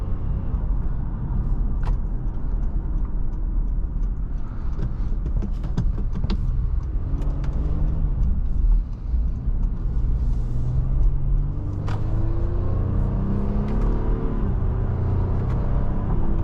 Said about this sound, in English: You can hear the noise better in this, the induction noise.